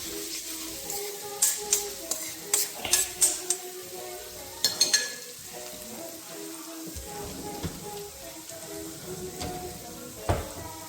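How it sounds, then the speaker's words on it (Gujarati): Garlic chili paste sautés in hot oil in a home kitchen, giving a steady soft sizzle. A spoon clinks against the pan in a cluster of sharp taps early on, with a few more scattered later. "તો એની માટે થોડુંક તેલ અને હવે ગાર્લિક મરચાંની પેસ્ટ છે નાખી દઈશું અંદર. હવે એને સાંતરવા દેવાની થોડીક."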